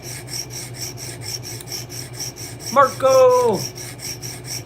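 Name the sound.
sharpening a blade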